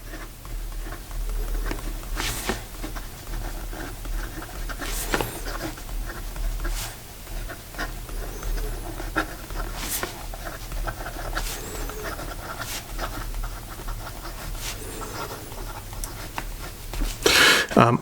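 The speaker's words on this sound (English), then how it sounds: "This is a medium 14 karat gold nib, and this is just some black ink cartridge that I have in here, and we'll have a little bit of a writing sample" An S.T. Dupont Line D fountain pen with a medium 14k gold nib and black ink cartridge writing on paper, a soft, continuous scratchy rustle close up with occasional light taps, no talk.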